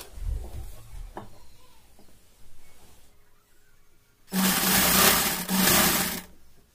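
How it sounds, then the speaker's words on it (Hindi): Sewing machine stitching a fabric strip onto a newborn baby cap, with a faint quiet start, then two close, loud bursts of steady whirring motor run, the second following a brief dip. "तो अब हमने इसको सिलाई लगानी है"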